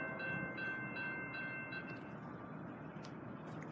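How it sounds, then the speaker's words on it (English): An eastbound CSX intermodal freight train led by an ET-44AH locomotive rumbles past at Lake City, Pennsylvania in winter, a steady low mechanical roar with faint rail noise throughout, fairly distant and moderate in level. "we see an eastbound CSX intermodal train"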